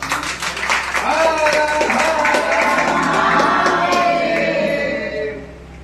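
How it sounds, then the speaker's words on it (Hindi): A crowd at a ceremony honouring a newly appointed district president applauds with steady, dense clapping and scattered shouts for several seconds, fading at the end. "एक जोरदार तालियों से आप सब लोग उनका एक बार फिर से"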